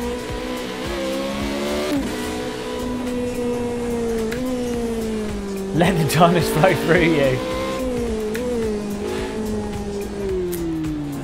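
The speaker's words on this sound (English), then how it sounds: "Seems to vary from car to car how the shifting sounds. So we're saying the Ferrari." A Ferrari in the racing game Project Cars 2 holds a steady engine drone with pitch dips at gear shifts and a brief burst of tire squeal midway, while someone talks over it.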